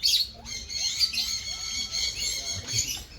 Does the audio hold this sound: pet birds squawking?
yes